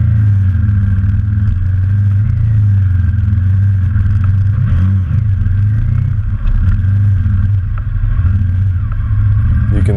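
KTM 950 and BMW F650GS adventure motorcycles riding rocky, sandy trails, a loud steady engine drone with rumbling low tones and clattering from rough ground throughout.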